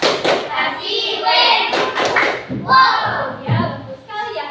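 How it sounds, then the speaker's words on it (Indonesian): A classroom group performs the 'tepuk wow' clap for Azam, a few sharp rhythmic hand claps and thumps mixed with children's and a teacher's voices chanting along. "Beri tepuk wow kepada Azam. Tepuk wow."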